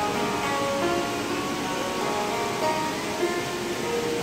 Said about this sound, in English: The background noise is the waterfall below us.